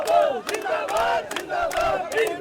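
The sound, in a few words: protest crowd shouting demanding resignation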